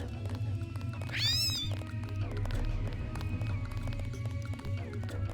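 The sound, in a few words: kitten meowing in video game Deus Ex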